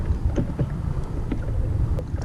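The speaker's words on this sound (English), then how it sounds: "And just start paddling and twitching." A kayak paddle strokes the water while fishing offshore, giving a few soft splashes and drips over light wind noise.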